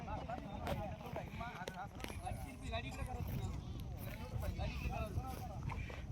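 Bullock carts set off in a Maharashtra bullock cart race, a rapid drumming of hooves and rumbling wheels under loud crowd shouting and a commentator's voice.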